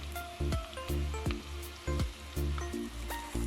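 Steady sizzling of onion sautéing in a pan, broken by repeated clanks and scrapes of a utensil stirring at a regular pace.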